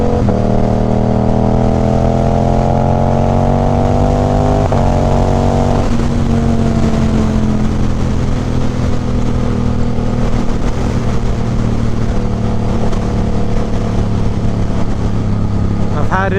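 A 2024 Suzuki GSX-8R with an aftermarket Toce exhaust idles with a deep, throaty drone, blipping its revs early on before settling into a steady rumble; a voice speaks faintly over it.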